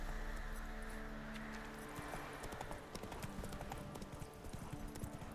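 Roach the horse trots through The Witcher 3, her hooves clip-clopping in a steady, close rhythm that carries throughout with a faint background bed beneath.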